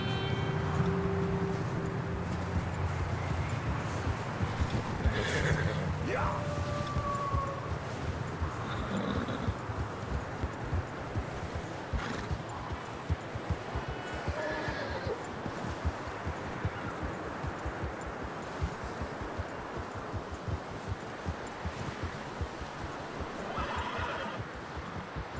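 Horses in Red Dead Redemption 2 walk with a steady clip-clop of hooves on the ground, and a close whinny comes early over a constant low outdoor background.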